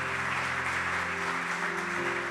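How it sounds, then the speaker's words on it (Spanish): A church congregation claps steadily for the Lord, a moderate wash of hand claps over a low sustained musical hum from the band or organ. "Dele un fuerte aplauso al Señor."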